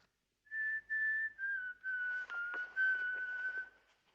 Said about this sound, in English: Whistling? Was I whistling? William Tell Overture.